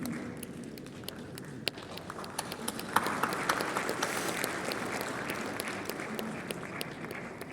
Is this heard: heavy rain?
no